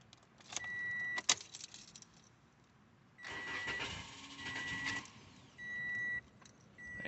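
A 2016 Toyota Corolla's engine is cranked with its fuel system depressurized, so the starter turns over repeatedly without catching, in several whirring bursts separated by pauses, with a few faint chime beeps and a brief jangle of keys.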